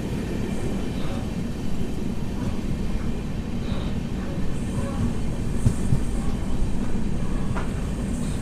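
A train running on the Sairang to Bairabi rail line in Mizoram, giving a steady, continuous rumble of wheels and carriages with faint rattles and occasional brief squeals throughout, close by and without talk.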